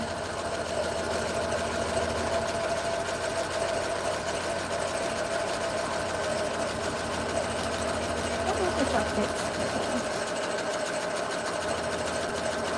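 A sewing machine runs steadily, stitching slowly around the inside of a fabric purse, with a continuous close mechanical whir and rapid needle rhythm throughout.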